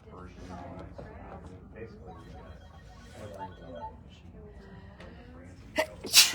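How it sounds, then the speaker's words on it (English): Murmured talk fills the background, then a sharp sneeze bursts out near the end, followed by another loud burst. "having a sneezing fit"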